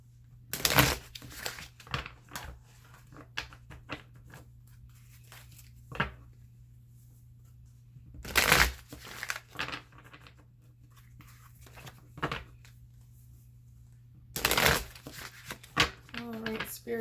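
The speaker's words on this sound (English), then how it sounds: "So I'm going to use some of the Wisdom of the Oracle cards, also by Colette Baron-Reid." Wisdom of the Oracle cards are shuffled in three short, sharp bursts spread apart, with a soft low hum and faint handling noises in between.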